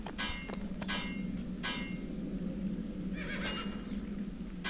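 Horse in the Black Mirror video game, clear neighs and whinnies over steady background hum, with a few sharp hoof-like knocks, close and fairly loud with no talk.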